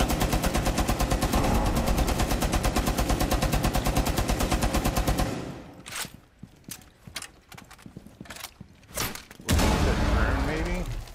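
Video game gunfire: a long, steady burst of rapid automatic fire at a fast even rhythm, loud and close, then scattered single shots and bangs amid quieter game noise, and another sustained burst at the end.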